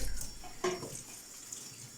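Freshly picked garden onions and vegetables are rinsed under a running tap, water splashing steadily and close for a couple of seconds before easing to a softer trickle.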